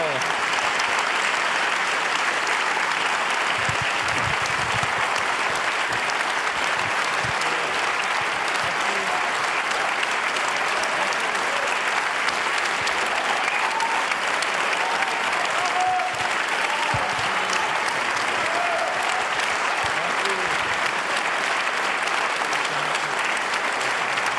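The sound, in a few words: audience applause at an opera awards ceremony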